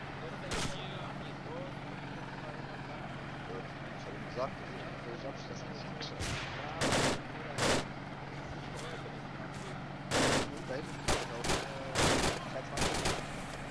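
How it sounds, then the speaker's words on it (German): Scattered gunfire in the video game ArmA 2: distant crackling shots, then a string of sharper single cracks and short bursts toward the end over steady background rumble. "Die Schüsse scheinen vom Berg zu kommen."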